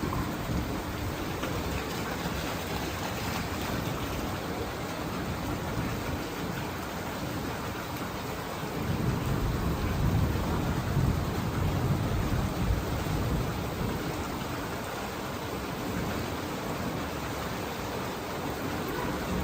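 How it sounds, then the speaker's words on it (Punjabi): Steady heavy rain pours in a dense, continuous roar, swelling a little louder midway; no distinct thunderclaps stand out. "ਬਹੁਤ ਜ਼ੋਰ ਦੀ ਮੀਂਹ ਪੈਂਦਾ"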